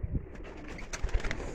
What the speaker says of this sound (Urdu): یہ بھی غازی والے کبوتر ہیں.